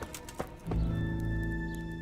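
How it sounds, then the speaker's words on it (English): Horse hooves clip-clop in the medieval video game Kingdom Come: Deliverance, a brief stepping sound early on before a sustained low musical drone takes over, with no talk. "Hitch up the white horse."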